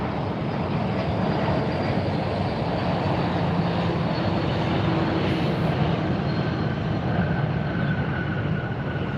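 A Porter airliner arrives at Fort Lauderdale, heard as a broad, steady rushing engine roar at moderate distance that holds constant throughout, with no voices.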